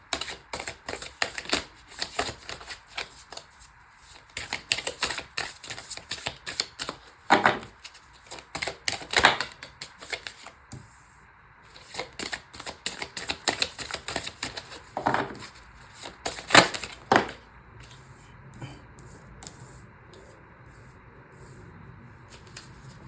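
Tarot cards being shuffled and drawn in a fortune-telling reading, heard as a series of soft, close card snaps and riffles in irregular bursts with quiet pauses between them, and no talking.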